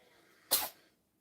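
A single sharp sneeze bursts out in a quiet room, brief and close, then fades to near silence.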